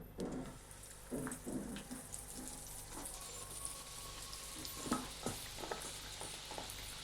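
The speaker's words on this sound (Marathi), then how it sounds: "आता याला तर आपण ह्याला लगेच तेलामध्ये आता फ्राय करून घेणार आहे" Coated potato french fries frying gently in oil over a low gas flame, a soft steady sizzle with faint scraping and stirring clinks, fairly quiet and close.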